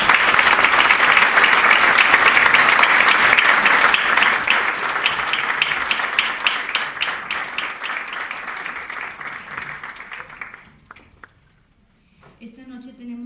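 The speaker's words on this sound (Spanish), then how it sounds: "les pido que le demos un fuerte aplauso" Dense audience applause at an architecture lecture session, sustained and loud for about ten seconds before thinning out and stopping, followed by a brief moment of speech.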